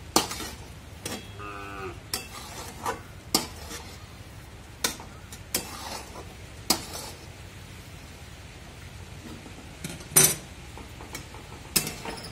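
A spoon works through jaggery sheera with cardamom powder in a pan, giving about a dozen sharp, separate clinks at irregular intervals against a quiet, hushed background.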